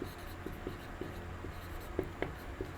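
Chalk or marker writing on a board during a physics lesson, soft scratchy strokes and light taps over a steady room hum, with no one speaking.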